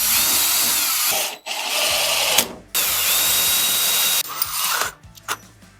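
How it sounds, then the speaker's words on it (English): Power drill pre-drilling pallet wood for a screw in a leg, with a loud steady whir in several bursts separated by short pauses, then some lighter rubbing and handling at the end. "Now I'm going to pre-drill this because I'm afraid of it splitting out the leg"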